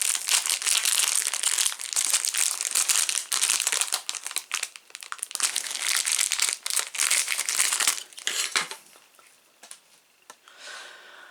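Plastic packaging around an R2-D2 model kit part, the left ankle, crinkles and crackles as it is unwrapped, close and busy for several seconds before fading to a few light rustles.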